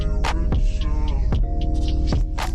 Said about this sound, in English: I'm just using the blow dryer to kind of set the baby hairs a little bit as I go